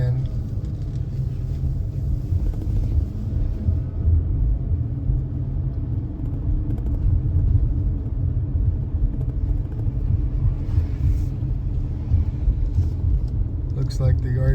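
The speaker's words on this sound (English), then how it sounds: "the turbo goes on quite often, So you can hear the turbo go on," Automatic garbage truck engine with turbo and clutch fan: a loud, continuous low diesel rumble with a steady mechanical drone, close by and unbroken, with a brief higher whoosh near the end.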